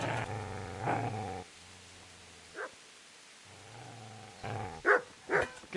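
A dog growls menacingly in Kingdom Come Deliverance, long low snarling rumbles broken by pauses, then a few sharp barks and yips near the end, close and alone.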